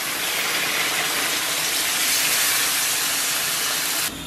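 Water poured into a hot wok of braised pork belly gives a loud, steady steaming hiss that holds evenly for a few seconds before dropping off abruptly.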